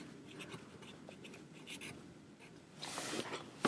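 A pencil scratches across paper at close range, a soft faint run of short strokes with a slightly firmer burst near the end.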